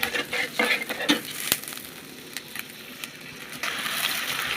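Garlic paste and spices fry in a pan with a low, steady sizzle, broken by scraping stir strokes and clinks near the start, for a cooking dish of goat head with potatoes.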